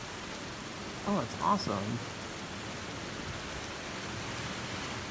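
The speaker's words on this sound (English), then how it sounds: "this is a pretty good rainstorm that we have right now, which is freaking amazing. I absolutely love the rain." Steady heavy rain from a rainstorm pours outside open windows and doors, a constant broadband wash throughout, with a brief exclamation spoken near the start.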